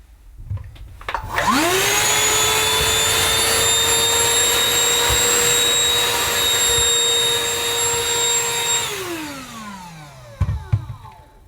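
A Shark cordless handheld pet vacuum whirs up, runs loud and steady for several seconds while cleaning crumbs off a toaster, then winds down with a falling pitch, followed by a few clunks.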